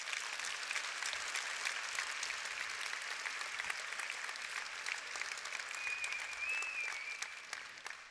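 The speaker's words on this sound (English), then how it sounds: "Give yourselves a round of applause." A seminar audience at a John Strelecky talk gives itself a round of applause, a steady wash of clapping from many hands that sounds fairly distant and soft, tapering at the close.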